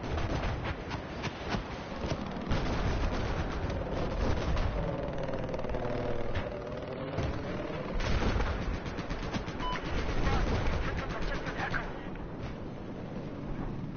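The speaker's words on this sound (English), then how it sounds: "Same room I'm firing a machine gun at." Machine gun fire in Battlefield 4, sustained rattling bursts mixed with engine noise from a nearby chopper, while players talk over the battle.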